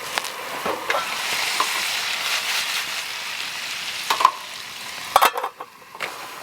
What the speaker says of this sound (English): we got the bacon frying up nicely